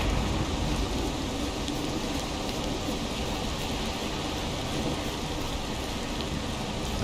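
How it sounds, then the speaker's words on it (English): Heavy rain pours steadily in a thunderstorm in the survival game Valheim, a dense, constant hiss with deep rumbling underneath, loud and unbroken throughout with no voices. "That is one extreme thunderstorm."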